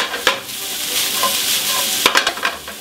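Shallots sweat in a pan without browning, with a continuous sizzle under scraping stirs, and a cluster of louder stirring strokes near the end.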